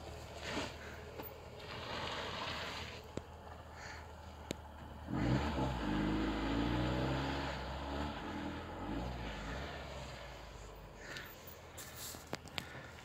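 A Tofaş Serçe car climbs a rough off-road track, its engine rumbling steadily and swelling louder partway through as it labours uphill, with a few sharp knocks over the ground.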